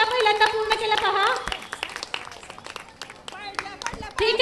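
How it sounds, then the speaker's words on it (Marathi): Audience clapping at a Home Minister women's game show held by a Navratri festival mandal in Shelgi. Scattered, fairly soft hand claps sit beneath louder talk and amplified music. "सगळ्यांनी टाळ्या वाजवा बरं"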